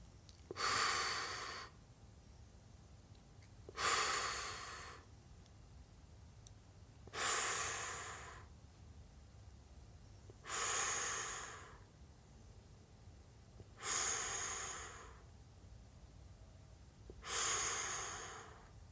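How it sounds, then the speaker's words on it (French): Slow, audible exhalations during a guided breathing exercise, six long airy breaths out spaced evenly about three seconds apart, close and soft over a quiet low hum. "Et j'expire."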